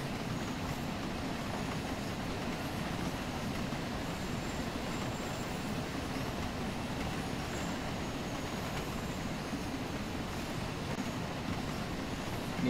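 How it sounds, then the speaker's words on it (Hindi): British steam locomotive train running and gathering speed, a steady continuous rumble of rolling wheels and rail noise without distinct beats, moderately loud and unbroken throughout. "हम 40 पे जा रहे हैं और स्पीड बढ़ती जा रही है हमारी ट्रेन की"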